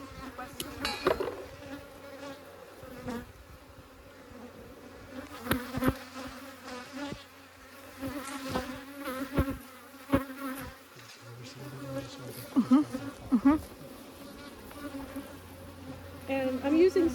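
A dense swarm of honey bees buzzes steadily at an open hive during an inspection, with individual bees droning past close by and occasional clicks and knocks.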